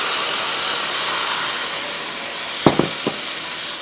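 Fresh tomato puree hits hot frying spices in a pan for a shrimp masala curry, giving a steady loud hiss and sizzle throughout, with a few brief clanks from the pan near the end.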